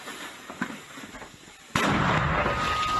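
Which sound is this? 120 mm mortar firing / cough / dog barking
120 mm mortar firing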